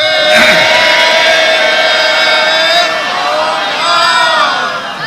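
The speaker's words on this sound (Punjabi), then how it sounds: "ਜੇ ਇਸ ਗੱਲ ਤੇ ਵਿਸ਼ਵਾਸ ਹੈ ਤਾਂ ਵੱਡਾ ਜੈਕਾਰਾ ਬੁਲਾਓ।" A congregation shouts a jaikara together, a loud, sustained mass of voices that rises in waves and holds strong for several seconds.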